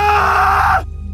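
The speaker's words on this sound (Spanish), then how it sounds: "en eso se escucha un grito" A single loud, piercing scream holds for under a second and then cuts off abruptly, close and alone, over a faint low background hum.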